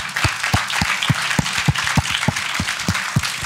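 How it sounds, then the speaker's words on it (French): Audience applause at a talk with a photographer, a steady patter of many clapping hands, moderately loud and continuous for a few seconds with no speech over it. "je voudrais que vous applaudissiez bien fort les 50 femmes qui ont participé à ce projet"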